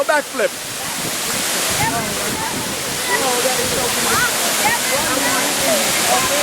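Kintampo waterfall in Ghana's Waterfalls region roars as a loud, steady broadband rush of falling water, with people shouting and talking over it throughout.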